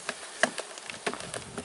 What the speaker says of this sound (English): we're going to shake the bees down and into the hive